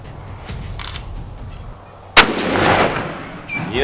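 A single rifle shot fired outdoors in the bushveld: one loud, sharp crack followed by a rolling, echoing tail over quiet outdoor ambience.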